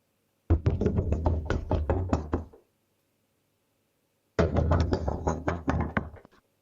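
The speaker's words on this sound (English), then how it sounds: "This is another one, to the door knocking." Synthesized knocking on a door, two bursts of rapid raps, roughly eight to ten quick knocks each, separated by a pause of near silence, close and crisp with no voices.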